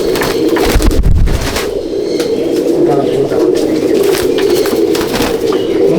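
Andhra pigeons are released at a pigeon loft, their steady low cooing running throughout with bursts of wing flapping near the start, and someone talks briefly.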